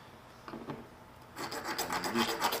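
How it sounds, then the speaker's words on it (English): A Nicholson Swiss file deburrs a rolled metal edge with a few faint scrapes, then a run of quick, close rasping strokes that grow louder toward the end. "Just doing a little bit of deburring where that tool had rolled that edge in a little bit."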